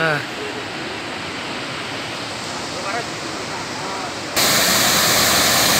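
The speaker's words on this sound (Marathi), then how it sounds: "खडकाई नदीला पूर आलेला आहे. सातपुड्यात मोठ्या प्रमाणात पाऊस पडल्यामुळे धबधबा निर्माण झालेला आहे." A waterfall on the flooded Khadkai river after heavy rain in the Satpuda hills roars as a dense, constant rushing wash of water. It sounds close and loud and swells sharply near the end, with a few faint voices early on.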